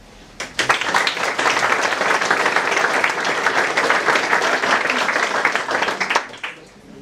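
Sustained audience applause greeting an honorary guest at a wine christening event in Mautern, steady dense clapping for about six seconds before tapering off.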